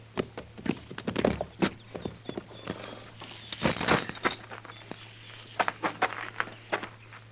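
Horse hooves clip-clop in an old-time Western radio drama effect, a quiet run of regular hoof taps with a short cluster of louder steps partway through, heard alone without voices.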